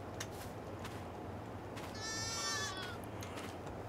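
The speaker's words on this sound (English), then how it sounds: "Yeah, I hear you, little sheep." A single sheep bleats once, wavering, over a quiet steady background hum, in Farming Simulator 22.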